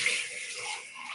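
Water runs from a kitchen tap in a steady, hissing stream, close and moderately loud, with no voices over it.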